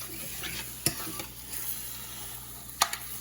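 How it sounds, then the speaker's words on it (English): A honey, garlic and balsamic mixture is stirred in a hot pan, sizzling steadily with a couple of sharp scrapes or clinks of the utensil against the pan, close and fairly quiet. "we're just gonna stir this so it doesn't stick"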